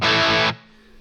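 An Enya Inspire smart guitar played through a distortion channel sounds a brief, loud, fuzzy chord that cuts off after about half a second and leaves a faint ringing tail.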